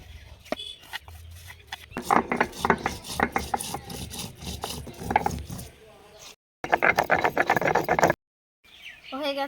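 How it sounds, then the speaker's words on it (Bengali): Cumin and panch phoron seeds are ground together on a stone grinding slab, making repeated rhythmic scraping and rubbing strokes that are close and clear, with a couple of short pauses. "পাঁচফোড়ন আর জিরে একসঙ্গে বেটে নেব।"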